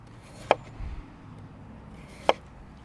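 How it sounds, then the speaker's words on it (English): A knife cuts through a potato into slices for French fries, giving two crisp, separate thunks on a cutting board about two seconds apart, with quiet handling in between. "You can make French fries by cutting slices like this."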